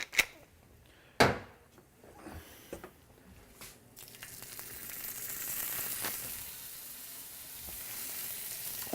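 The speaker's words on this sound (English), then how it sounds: "Finally, we'll get our scallops on." Seasoned scallops go into a hot pan, with a couple of sharp clinks and placements first, then a steady sizzle that builds and stays loud and close, with no talking.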